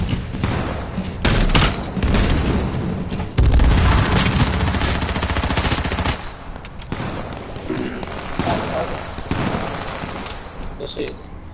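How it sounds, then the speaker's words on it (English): Shotgun blasts go off during a video game firefight, with loud, dense bursts of gunfire and booms packed close together, easing off toward the end, while someone talks over them. "Put this shotgun right in their back."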